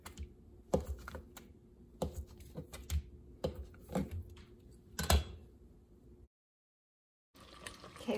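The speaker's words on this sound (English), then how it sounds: "I have a block of cheese and I'm just gonna cut it in half and then" A knife cuts a block of mozzarella cheese into halves and squares, giving quiet, irregular sharp taps and clicks against the board with short gaps and a brief silence near the end.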